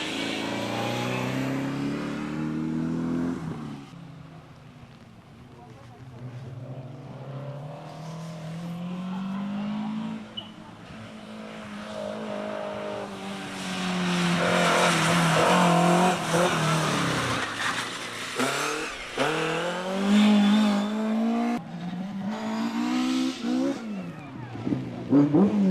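A rally car racing past on a tarmac stage of the Lombard Tredegar rally, revving hard as it approaches, swelling loudly as it passes close, then the engine note falling and fading as it shifts through gears into the distance.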